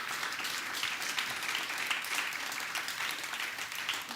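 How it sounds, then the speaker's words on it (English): Audience applause for the speakers at an education debate event: a sustained, dense wash of clapping from a seated crowd, even in level from start to finish with no talk over it. "Perhaps a big round of applause for our speakers"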